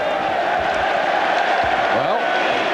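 Football crowd at the 1988-89 Everton versus Liverpool match applauding and cheering as the Liverpool manager comes on, a steady broad roar of many voices with a commentator's voice talking over it throughout.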